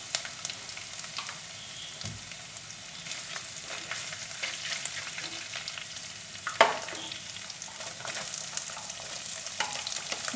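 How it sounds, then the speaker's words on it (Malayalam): Curry leaves hit hot oil for a Kerala stingray curry, a fairly soft, even sizzle up close with a brief louder spatter partway through and no talking. "ഈ കറിവേപ്പില ഇതിലേക്ക് ചേർക്കാം."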